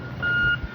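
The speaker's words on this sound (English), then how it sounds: "Oh, this snow truck, shoveling truck" A snow-clearing truck gives a single clear reversing beep on a snowy Toronto street during a snowstorm, with low engine rumble and street noise around it.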